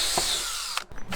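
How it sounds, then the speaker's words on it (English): A power drill boring through a deck railing post, a loud whining whir that winds down and then restarts in short bursts, close up and with no talk. "I didn't drill it all the way through"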